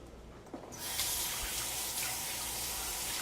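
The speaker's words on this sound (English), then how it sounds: "rinse them, like I'm going to do" Running water pours from a tap as roasted sweet peppers are rinsed under it, a steady close splashing rush that starts abruptly after a quiet moment and continues to the end.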